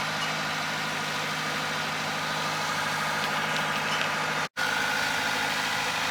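Sailboat auxiliary motor running while under sail on passage between Santa Pola and Gibraltar at about 6-7 knots, a steady low droning hum with broadband wind and water noise, one brief dropout near the end.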